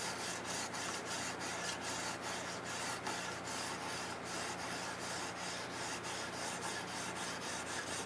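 A knife blade is stroked back and forth on a 1000 grit Ruixin Pro sharpener stone, giving quiet, regular rasping rubs at a steady rhythm.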